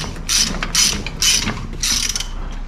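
A ratchet wrench clicks in four quick bursts while tightening the top nut on a Honda Accord CL9 Type S suspension strut fitted with lowering springs, the crisp mechanical ticking close and distinct over quiet garage background.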